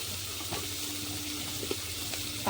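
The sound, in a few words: fish heads frying in oil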